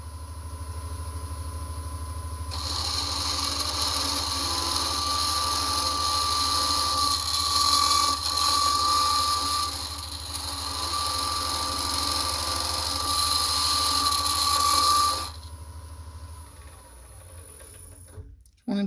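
A lathe spins a Christmas ornament at around 1300 RPM, making a steady cutting hiss with a low hum beneath. The sound holds for roughly twelve seconds, then stops and leaves the quieter motor tone.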